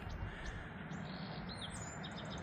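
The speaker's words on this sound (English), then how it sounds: "The birds are coming back." Faint birdsong chirps and trills drift in from a distance outdoors on a mild day, thin high tweets scattered over a steady wash of background noise.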